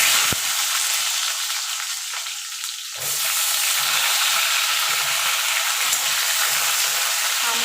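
Raw mango pieces dropped into hot oil with spice tempering, a loud, dense hiss that jumps up sharply partway through and keeps sizzling steadily, close with no voices.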